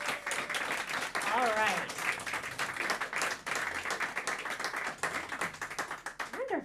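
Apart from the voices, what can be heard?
concert audience applause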